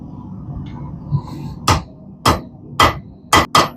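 Blacksmith hammer blows on hot rebar at the edge of an anvil, drawing the metal thin for a forged snake: five sharp ringing strikes with irregular spacing over a low forge-like rumble.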